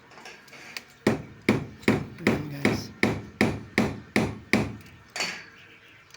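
A hammer strikes repeatedly at a construction site, about a dozen sharp, evenly spaced woody whacks close by, with a man's brief spoken remark near the start.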